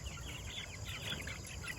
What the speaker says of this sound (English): Here are our Cornish cross meat hens.